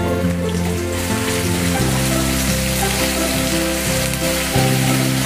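Green chilies and curry leaves fry in hot oil in a pan while egg bhurji is being made, giving a loud, steady sizzle with low background hum throughout.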